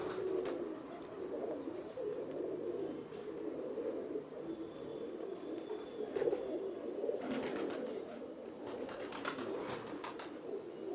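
Pet pigeons, fancy kabutar breeds kept by a pigeon fancier in Jammu and Kashmir, coo steadily in a low, continuous murmur throughout, close by, with scattered faint chirps and rustling over the top.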